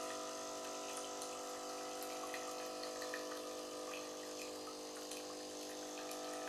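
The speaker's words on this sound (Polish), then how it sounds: "Leci kawa, słuchajcie." A Cafissimo mini capsule coffee machine brews, its pump giving a steady, faint buzzing hum as coffee runs, continuous and unbroken throughout.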